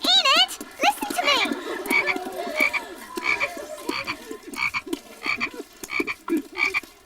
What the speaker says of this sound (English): Maud, please remove that frog from the jar and place it into one of the boxes in the cupboard.